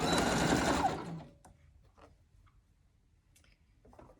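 A sewing machine runs briefly, stitching a seam on a fabric scrunchie with a fast, dense mechanical whir, then stops, leaving faint clicks and handling sounds in a quiet room.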